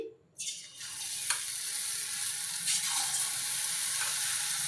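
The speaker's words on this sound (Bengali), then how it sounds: "এবার তেল গরম হয়ে গেছে, তেলে দিয়ে দিচ্ছি।" Beaten batter for motichoor laddu dropped into hot oil, bursting into a sudden loud sizzle after a quiet moment, then a sustained close frying hiss with small surges as more batter hits the oil.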